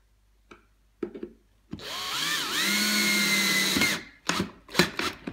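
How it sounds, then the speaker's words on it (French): Power screwdriver driving screws into a wooden Dadant beehive body, a loud whining whir of about two seconds that pitches down as the screw seats, with short clicks and handling knocks before and after. "on continue à visser"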